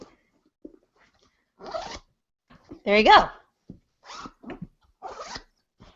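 A boot zipper is zipped up and down in quick rasping strokes, one loud run standing out among shorter ones, with a person speaking briefly in between.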